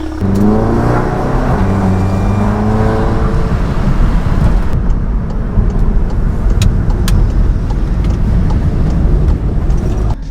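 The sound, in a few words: car engine revving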